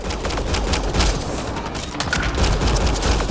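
Gunfire during a firefight in the video game Mass Effect Andromeda, dense rapid shots blending into a continuous loud crackling barrage with no pauses.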